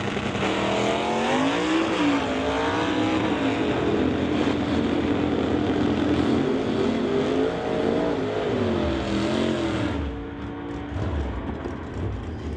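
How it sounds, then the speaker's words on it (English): A 1967 El Camino and a Comet roar down a drag strip side by side, loud sustained engine drone rising through gear shifts for about ten seconds before easing off, with no talk. "Rich Graves in the 1967 El Camino out of Puyallup, Washington, to race Jamie Roth in the Comet"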